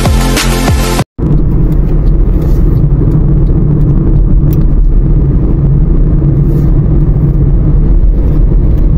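Car driving through the busy Al Nasr area of Doha, Qatar, with a steady loud rumbling engine and road roar from inside the cabin, after a brief burst of music and a short cut, no voices.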